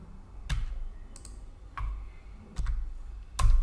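A few separate key presses on a computer keyboard, typing a terminal command, heard as close, sparse clicks spaced irregularly over a quiet background.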